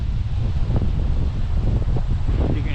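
Gusty wind blowing across Kaercher Creek Park in Hamburg, Pennsylvania, an open creekside park, a steady broadband rush with slight surges and buffeting against the microphone, continuous throughout with no talking.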